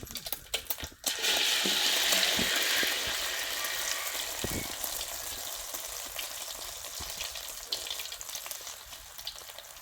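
Oil heating in a pot ahead of a Thai-style omelette gives a steady, close frying sizzle, starting with a few clinks and then settling into continuous crackle and hiss with no voices.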